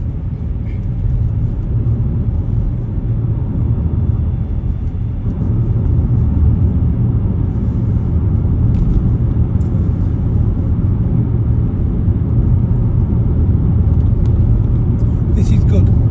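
Car driving at around 45 during a driving lesson in Leeds, a steady engine and road rumble from inside the cabin while people talk over it.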